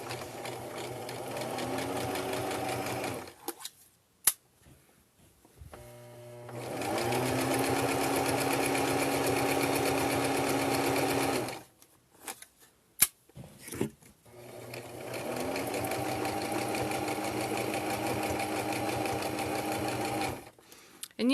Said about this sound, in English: would help if I turned on my sewing machine